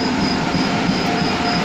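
An Indian Railways train rolls past during a trip through Rajasthan, a loud, steady rumble of rail cars with wheel squeal and rhythmic clatter, close by and continuous with no talk.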